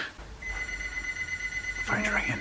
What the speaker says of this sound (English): Yeah, the phone's ringing.